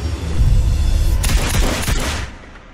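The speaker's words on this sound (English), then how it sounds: "Shots fired in the embassy." Gunfire inside an embassy in a 2017 action movie trailer, a dense burst of loud booming shots over a heavy rumble, close and forceful before fading out near the end.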